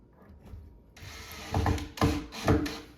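A hand tool drives screws into the shelf of a wooden farmhouse shoe bench with doors, making a close ratcheting, grinding whir that swells into three louder pulses.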